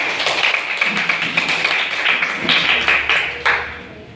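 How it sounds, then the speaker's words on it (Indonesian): A classroom of students claps together, brisk dense applause with a few sharper claps standing out, fairly close and loud, trailing off near the end. "tepuk tangan dulu semuanya"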